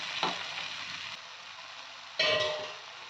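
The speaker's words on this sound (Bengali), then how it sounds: "এবার সমস্ত মশলা ভালোভাবে কষে নেব।" Ground spices and homemade chili powder sautéing in hot oil for paneer chole masala, a sustained sizzle with two sharp bursts as the mixture is stirred, no talking.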